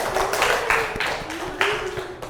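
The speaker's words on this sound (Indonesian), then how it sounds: "Tepuk tangan untuk kelompok B." A classroom of students clapping for group B, delivered as several distinct bursts in an uneven, patterned rhythm, fairly close and loud, with a faint voice sounding underneath.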